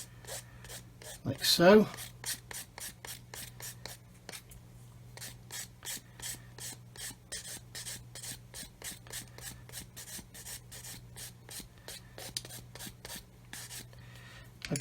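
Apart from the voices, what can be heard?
sanding stick removing sprue nibs and mould seams from plastic model parts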